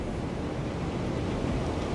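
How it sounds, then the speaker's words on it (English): A sandstorm in a science fiction setting, gusting wind roaring as a steady, dense rush of noise with slight surges, close and unbroken, no voices. "It's a sandstorm, and the gusting wind blows the refiners into red darkness."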